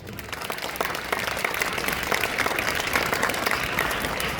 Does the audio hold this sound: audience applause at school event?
yes